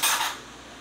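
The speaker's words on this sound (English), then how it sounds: "Now I'm gonna put the dirty dishes in." Dirty dishes clatter briefly as they are put away, a single close burst of rattling crockery that quickly fades.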